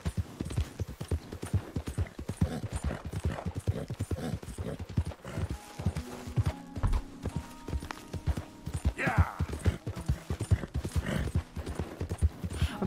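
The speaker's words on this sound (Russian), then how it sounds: "вот так вот едешь на максимальной скорости своей лошади" A horse galloping at full speed in Red Dead Redemption II, its rapid, steady hoofbeats pounding throughout, with soft game music and tones sustained underneath.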